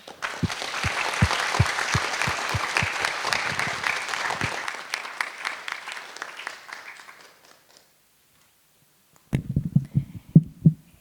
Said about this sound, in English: So please give big applause to the speakers and the commentators once again.